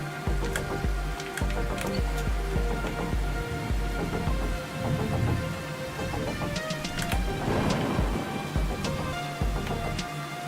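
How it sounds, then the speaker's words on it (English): Rain in the video game Ark Survival Ascended, a dense, steady patter of drops with scattered sharp ticks and clicks layered over it, loud and continuous, with no voices over it. "And now it's raining, I can't hear a damn thing."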